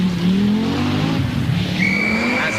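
A 500-horsepower Audi Quattro Sport rally car races past at close range, its engine note rising and falling in a loud, continuous roar with a brief high tire squeal near the end.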